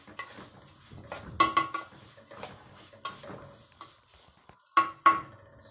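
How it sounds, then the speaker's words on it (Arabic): Meat with vegetables stirred in a pot with oil, a spoon scraping and clattering against the metal in irregular bursts, several sharp knocks standing out over a soft background of cooking. "طبعا نقلب كويس."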